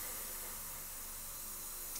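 Spray paint laid down as a light first coat on a scale model aircraft, a steady, soft, even hiss held at close range without a break, with nobody talking.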